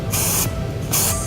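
Two short bursts of aerosol hair spray hiss close by, with a brief pause between them.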